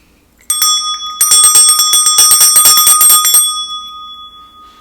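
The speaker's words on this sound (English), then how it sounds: "First, I'll clear the energy with my bell." A bright metal bell rings loudly in a rapid run of strikes, its clear tones lingering and slowly fading, with no voices.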